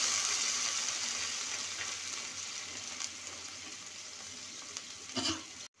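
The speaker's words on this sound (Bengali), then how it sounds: "এবার দিয়ে দেবো সামান্য জল।" Fried ginger and tomato sizzle steadily in a pan, then a short louder burst of hissing and bubbling near the end as a little water goes in, before the sound cuts off abruptly.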